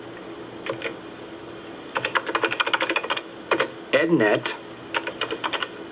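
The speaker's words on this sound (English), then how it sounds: "For EdNet, you need to type subscribe" Rapid bursts of keystrokes on a 1990s computer keyboard, clustered clicks in short runs separated by pauses, close and distinct, with someone narrating between and over the typing.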